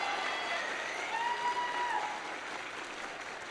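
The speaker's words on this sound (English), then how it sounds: "Can we all give a round of applause for the class of 2026?" A high school commencement crowd claps steadily in a dense wash of applause that eases off slightly toward the end.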